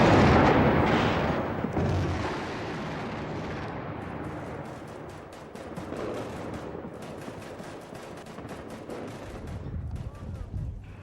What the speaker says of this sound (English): The attack came in waves, cruise missiles, followed by the F-117 stealth bombers with so-called